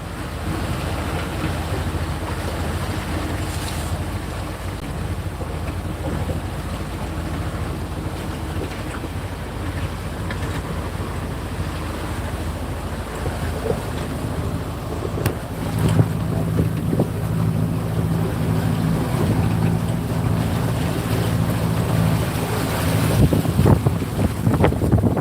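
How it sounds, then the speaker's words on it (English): A sailboat is under way at sea in the wind off Fiji. Gusts buffet the microphone over a steady rush of water and waves along the hull, with the noise growing stronger in the second half. "We're out here just sailing around Fiji."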